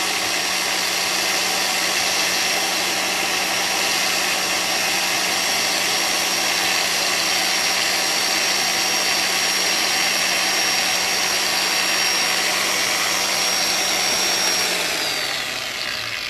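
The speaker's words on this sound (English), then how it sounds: "Cut the polisher off." Car polisher working around the lug nuts of a wheel, a loud steady whirring motor drone held constant throughout, then winding down in pitch as it is switched off at the end, with no talk.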